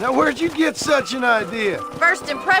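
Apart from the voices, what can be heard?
No distinct noise like a dog, phone or traffic.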